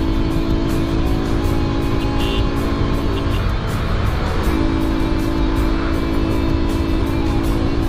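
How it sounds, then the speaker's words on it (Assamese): A KTM motorcycle that is misfiring and pulling poorly drones continuously while being ridden on a road, its loud engine noise mixed with rushing wind and dipping briefly midway. "বাইকখনে ভালকৈ পুল কৰা নাই মিছ মাৰিছে"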